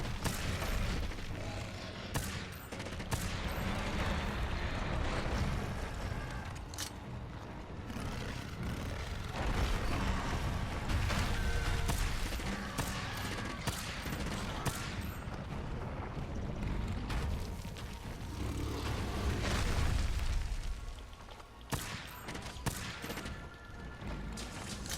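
A bowgun firing pierce ammo in Monster Hunter World, a dense, loud barrage of rapid shots and heavy booms that rolls on continuously with hardly a pause.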